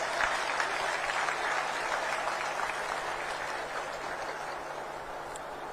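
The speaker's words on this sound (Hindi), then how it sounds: "एक बार जोर से इनके अभिनंदन में तालियां बजाएंगे।" A crowd at an International Yoga Day event in Panipat applauds a short yoga performance, a sustained, even patter of clapping that slowly tapers off.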